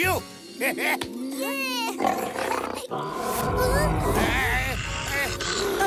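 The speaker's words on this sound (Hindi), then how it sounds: "अरे ये तो शेर के दहाड़ने की आवाज है।" Lion roaring in a Hindi TV drama scene, loud animal roars mixed with music and dialogue, with people speaking over much of it.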